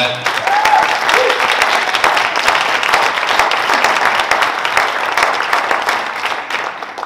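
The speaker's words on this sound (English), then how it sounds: "I appreciate the applause" Sustained audience applause following a talk about diverting farm food waste in Atlanta, steady clapping throughout with no pause.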